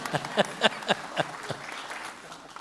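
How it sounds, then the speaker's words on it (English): Scattered applause from a small audience at a school board of education meeting, a handful of distinct claps in quick succession that thin out and fade within a couple of seconds, fairly quiet in the room. "did I hear applause for that group?"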